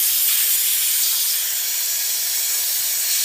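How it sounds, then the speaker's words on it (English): A pneumatic impact wrench runs steadily on a Polaris Sportsman 700 ATV during a ball joint replacement, giving a constant loud airy hiss with no break across the whole stretch. "now that we got that on there, we're going to put my noisy impact on."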